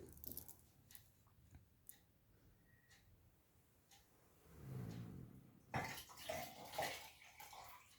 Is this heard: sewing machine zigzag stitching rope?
no